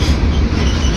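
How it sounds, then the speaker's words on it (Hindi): The 12216 Garib Rath Express passenger train rolls along the rails at close range, giving a loud, steady rumble with rattling wheel and carriage noise and no voices. "देखो अभी चल पड़ी हमारी गाड़ी"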